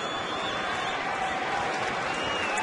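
Sellout baseball crowd at Target Field, most of the fans on their feet waiting for the final out, making a steady, dense roar with scattered applause, loud and continuous throughout without a break.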